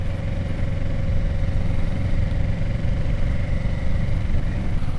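A motorcycle engine hums steadily while riding around, recorded close on a helmet-mounted camera. A constant mid-pitched drone runs under wind rumble with no change in pace.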